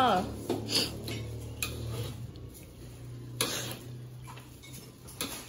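Food being stirred in a pan, with clinking metal utensil strikes against the cookware in an irregular rhythm, a low hum running beneath, and voices briefly in the background.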